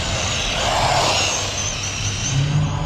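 A ZD Racing Pirates 2 RC buggy fitted with a 4300 kV brushless motor, driving across a large parking lot. It makes a loud, steady, high-pitched electric whine with a gravelly tire hiss that swells and eases slightly.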